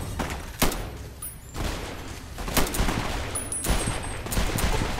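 Weapon fire in Fallout New Vegas: a few loud, sharp gunshots spread across the stretch, sitting over a rumbling game ambience with no talk.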